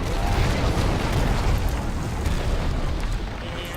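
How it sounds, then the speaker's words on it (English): An artillery barrage pounding a fortress in the strategy game Battle for Middle Earth 2, a dense, continuous rumble of overlapping explosions and booms, loud and unbroken throughout with no talk. "I just set my artillery to attack the fortress."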